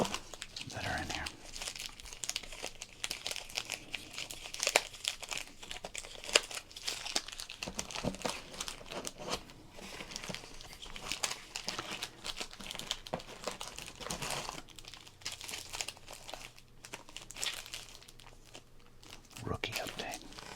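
A crinkly foil pack of football cards is opened and handled up close, giving continuous soft crackling, rustling and tearing at low volume, with quiet speech in places.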